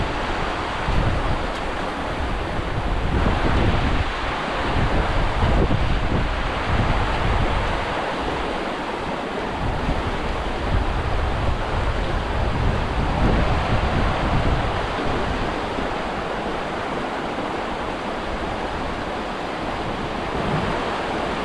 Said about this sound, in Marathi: सो हा झोलचोंड वॉटरफॉल